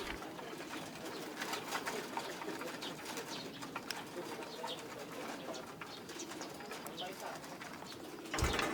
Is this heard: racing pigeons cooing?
yes